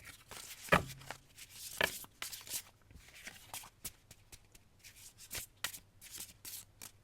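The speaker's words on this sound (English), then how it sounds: "I shuffle the cards from the archetypes" Oracle cards from a Wild Unknown Archetypes deck being shuffled by hand, close and quiet, with a couple of sharp riffle bursts followed by softer irregular rubbing and sliding of cards.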